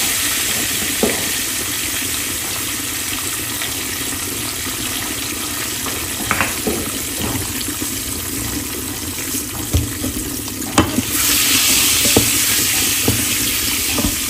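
Egg masala frying in a pan, a continuous hiss and sizzle with occasional clicks and scrapes of stirring, growing brighter and louder near the end.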